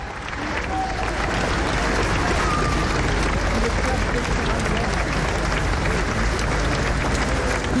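A large crowd at a funeral applauds in a long, dense, sustained wave of clapping, with faint murmuring voices mixed in.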